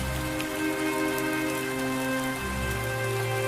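Heavy rain pours steadily onto surfaces in a village during a flood, a dense, continuous hiss and patter filling the whole stretch with no voices.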